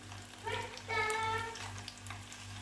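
Egg koftas fry with spices in a pan, giving a soft close crackle and sizzle that swells and eases over a low steady hum.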